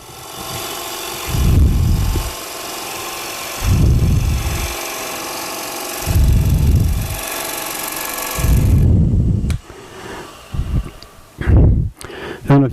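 Hunter Hercules carbide tool used like a bowl gouge, bevel rubbing as it cuts a spinning piece of wood on a lathe: repeated loud bursts of cutting over a steady motor hum, with the passes becoming shorter and choppier near the end.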